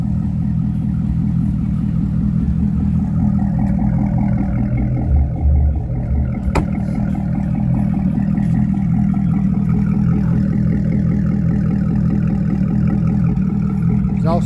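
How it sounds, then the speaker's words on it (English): A car engine idles with a low, steady exhaust rumble throughout, fairly loud and close, with no voices. "exhaust sounds good. With the top up, you don't even hardly hear the exhaust unless you get on it."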